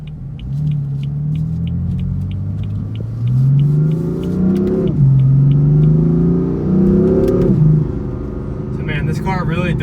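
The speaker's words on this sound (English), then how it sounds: "this car really does accelerate, really gets going" A 2015 BMW M4 in Sport Plus mode accelerates hard through several gears, its engine note climbing and dropping at each shift. Loud in-cabin sound, with a voice talking over it near the end.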